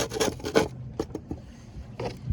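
Old sealant scraped off the teak deck of a Hallberg Rassy 352 sailboat: a few close, rough rasping strokes in quick bursts, with short pauses between them.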